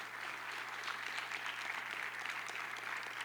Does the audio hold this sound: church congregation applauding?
yes